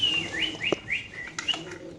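Pakistani pigeons kept in cages at a pigeon farm give a few short, rising chirping calls close by, spaced irregularly over a soft background hum, with no talking.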